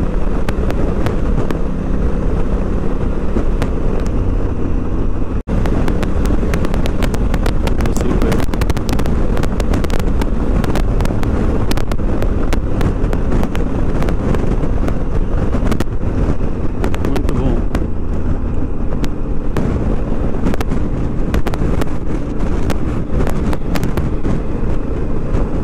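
Heavy wind buffets the microphone in a constant, loud roar with rapid gusty crackles, recorded at speed riding a 2017 Honda Africa Twin motorcycle, with no voices.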